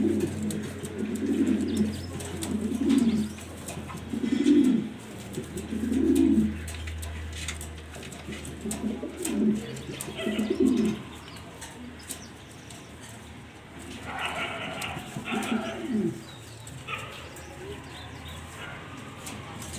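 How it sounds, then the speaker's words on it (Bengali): A pigeon coos repeatedly in soft, low, rhythmic phrases close by, with some quieter rustling and faint chirps later on. "পাগলা একটা কবুতর"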